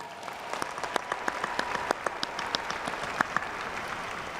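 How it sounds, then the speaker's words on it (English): A small audience at a university commencement claps steadily, individual claps distinct and close, forming a brief, moderate round of applause. "Please give yourselves a warm round of applause."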